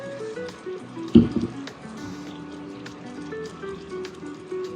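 A little water is poured into a pot of vegan shirshir wot, a spiced bean stew, giving a short splashy pour with light trickles against a quiet kitchen background.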